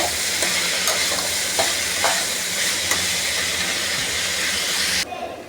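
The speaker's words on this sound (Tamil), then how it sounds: "உருளைக்கிழங்கு வறுவல் செய்யலான்னு உருளைக்கிழங்கு கட் பண்ணி தாளித்து விட்டுருக்கோம்" Cut potatoes for a Tamil-style fry sizzle loudly in a tempered pan, with steady hiss and repeated scrapes of stirring, close and continuous before the sound drops off abruptly near the end.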